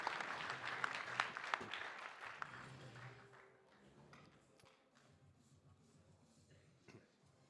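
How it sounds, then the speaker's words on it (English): Applause for four heavyweight fighters at a fight event, loud clapping with scattered sharp claps that fades away over several seconds into quiet crowd murmur. "how about a round of applause for these 4 heavyweights, everyone?"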